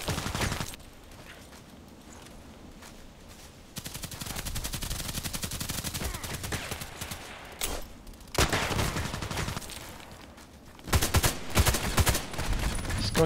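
Automatic fire from an HK417 rifle in a shooter game, sustained rapid bursts of loud gunshots broken by short pauses and rising to heavier volleys near the end.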